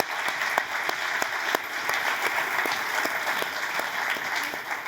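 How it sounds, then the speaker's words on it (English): A conference audience at a global inclusive growth summit gives sustained, even applause, a steady wash of clapping with a few distinct nearby claps standing out. "Let's give a big round of applause to them."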